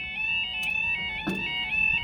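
A level crossing alarm at Noose Lane sounds steadily as a continuous high electronic tone, with a faint voice briefly underneath.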